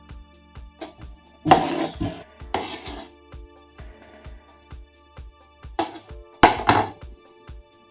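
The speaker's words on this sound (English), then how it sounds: "I'm just going to grab the knife and let's slice it." A knife cuts through cheesy tandoori chicken garlic bread in a few bursts of crunchy scraping and tapping on a board, with sharp rhythmic clicks in between.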